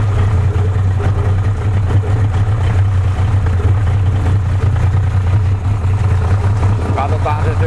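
Yamaha 60 four-stroke outboard motor idling in gear, its steady low rumble running unbroken throughout with someone talking over it.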